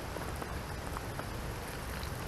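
Steady soft patter of light rain with scattered drops, a constant hiss and no voices.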